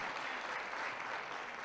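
Church congregation clapping hands during a Church of God service, a dense, steady burst of applause from many people for under two seconds.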